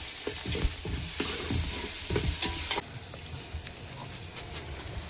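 Crushed ginger and garlic sizzle and fry in a pan on a boat at sea, with repeated scraping stirs over a steady hiss that drops slightly partway through.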